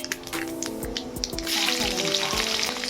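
Nigella seeds and spices spluttering in hot oil for tempering, a close, lively sizzle with scattered pops and crackles that swells louder toward the end.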